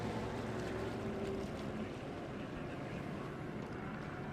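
Jet skis running on water at an outdoor event course, a constant far-off engine drone mixed with wind and water wash, steady and faint with no talking.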